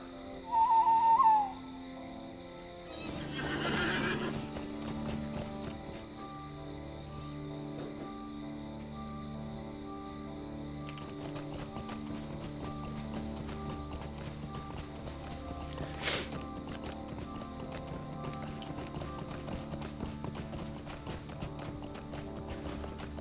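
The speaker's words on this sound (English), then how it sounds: "Alright, so up on my horse." A horse in the video game LOTRO: a brief whinny at the start, then steady clip-clop hoofbeats at a galloping pace under ambient game music and occasional effects.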